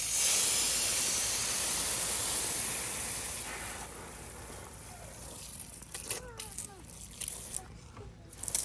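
Water spraying from a hose onto soil in a home-made raised garden bed, a loud steady hiss that fades after a few seconds, followed by quieter splashing and dripping with faint background voices.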